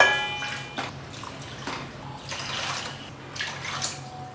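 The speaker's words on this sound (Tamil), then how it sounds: "1/2 கிலோ சர்க்கரைக்கு தண்ணி சேர்த்துடலாம்." Water, about four glasses' worth, splashes and trickles into a pot of half a kilo of sugar to start a syrup for gulab jamun, in short uneven pours in a quiet kitchen.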